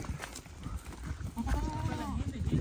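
A goat bleats in a wavering, quavering call that sits under steady nearby talk at an outdoor spot by the Indus River in Pakistan.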